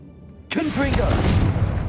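In Hogwarts Legacy, the Confringo blasting spell erupts in a sudden loud boom, then a rumbling, crackling burst that fills the rest of the moment, with a voice close by.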